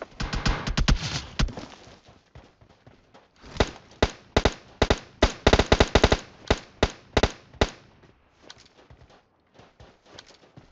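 Rapid bursts of automatic gunfire from the PUBG Mobile battle royale game crack out in loud, sharp clusters, with a dense volley early, another heavy run in the middle and scattered shots trailing off, and no talk.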